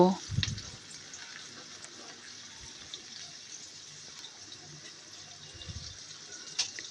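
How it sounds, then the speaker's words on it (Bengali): Chopped onion frying in a little oil in a pan gives a steady soft sizzle throughout, with a few louder clatters at the start and near the end. "পেঁয়াজটাকে এবার তেলের সাথে একটু ভেজে নেব"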